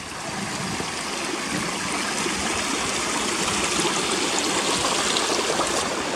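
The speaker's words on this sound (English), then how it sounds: "this is where you've got to cross some fast moving streams coming down the hills." A fast-moving hillside stream near old Gunnerside mine ruins rushes steadily with a broad, dense splashing roar, close and continuous throughout with no voices.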